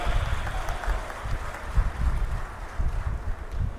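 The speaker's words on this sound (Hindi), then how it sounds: "एक बार संत दुलाराम जी को ताली बजा करके उनको भी याद करना चाहिए।" A crowd at a political rally in Bikaner claps in memory of Sant Dularam ji, a soft, fairly distant patter of applause under low rumbling background noise.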